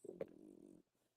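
A dog lying on a bed gives one short, low, rumbling snore, close by and faint, which fades into quiet.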